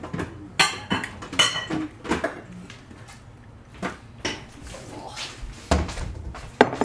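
Bowls and dishes clatter in a home kitchen during red velvet cupcake baking, a series of short irregular clinks and knocks of crockery being moved about, with quieter handling noises between them.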